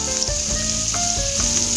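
Shrimp and spices stir-fried in butter for salt-and-pepper ngohiong shrimp, giving a steady close sizzle with soft scraping and stirring bumps throughout.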